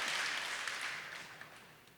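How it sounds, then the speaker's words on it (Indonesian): Congregation applause at a Sunday church service, a dense, even wash of clapping that starts strong and slowly fades over two seconds, heard alone without talk. "Tepuk tangan bagi Allah kita,"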